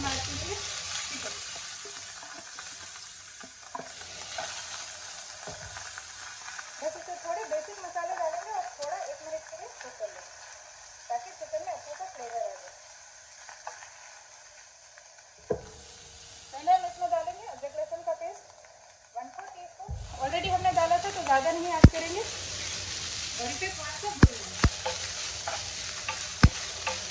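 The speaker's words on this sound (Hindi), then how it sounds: "पैन में मैंने ऐड किया है 2 टीस्पून के करीब ऑयल और इसमें हम ऐड करेंगे चिकन" Chicken goes into a pan with about two teaspoons of hot oil, bringing up crackling sizzles that come and go in bursts over background room tone, with a few sharp clinks toward the end.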